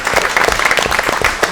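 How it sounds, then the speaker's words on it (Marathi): Loud, dense audience applause fills a special program by Mumbai Doordarshan, a steady burst of many hands clapping close by with no talking over it. "आणि त्याच्याबद्दल एकदा जोरदार टाळ्या व्हायला पाहिजे."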